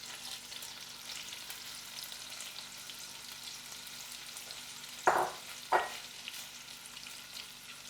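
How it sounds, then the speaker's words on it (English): Steady crackling sizzle of steak bites frying in butter in a pan, with two brief louder bursts of scraping or stirring near the end. "you're literally just pan frying this in butter"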